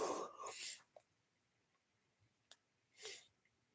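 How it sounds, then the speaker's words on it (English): A single sharp sneeze burst, preceded by breathy intakes and followed by another short exhale, close and quiet otherwise. "I fucking want to sneeze"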